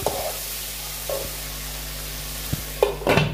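Steamed banana pieces fry in a pan while being stirred, a soft continuous sizzle broken by occasional scraping strokes of a spatula, close and without any voices.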